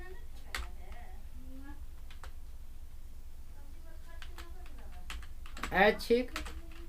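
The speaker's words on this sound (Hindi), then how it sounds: "चलिए कृतिदेव, यहाँ पे टाइप करते हैं ऐच्छिक विषय" Someone types on a computer keyboard while entering text in Excel, giving scattered light clicks under quiet speech. A louder burst of keystrokes comes near the end.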